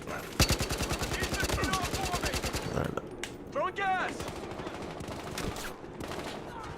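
Rapid automatic gunfire in a Battlefield shooter, a dense near burst of evenly spaced shots for a few seconds, followed by scattered single shots and game effects, with a voice talking over the action.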